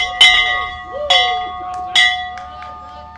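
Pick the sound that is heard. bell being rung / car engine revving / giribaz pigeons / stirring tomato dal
bell being rung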